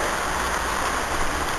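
Rain falling outdoors, a dense steady hiss of drops pouring down continuously with no voices over it.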